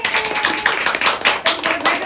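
An audience at a makeup course certificate ceremony claps briskly and steadily, a close, dense patter of many hands.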